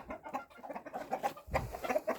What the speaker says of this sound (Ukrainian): Курочка тут маленька наша бігає.